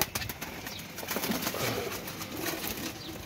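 Pigeons kept as paired birds, some with red eyes, coo softly while wings flap in quick bursts nearby, a busy rustling layer with no voices.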